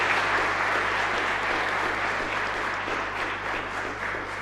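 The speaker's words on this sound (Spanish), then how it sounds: "Fuerte aplauso para la madrina." Congregation applauding the godmother during a baptism at a live mass in a chapel, a sustained even round of clapping from a modest group, fairly close and steady throughout.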